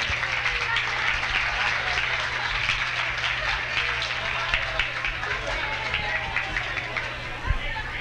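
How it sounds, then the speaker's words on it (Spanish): Crowd in a hotel discotheque applauds a performer, a steady spread of clapping mixed with murmuring voices and chatter, fairly loud, with a low steady hum beneath and one sharper knock near the end. "un aplauso para el señor Fernando Sola"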